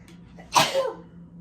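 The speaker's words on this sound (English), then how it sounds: "I have to sneeze." A single sharp sneeze bursts out, close and fairly loud, with a brief trailing exhale against a quiet background hum.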